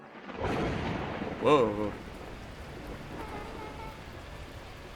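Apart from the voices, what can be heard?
thunder and torrential rain in video game Beacon Pines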